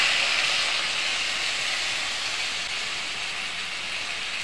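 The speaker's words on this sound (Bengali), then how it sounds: "আমি জল ঢেলে দিলাম।" Water poured into a hot pan of fish-head curry made with rohu fish head and taro, giving a steady, close, loud sizzling hiss that fades only slightly over its length.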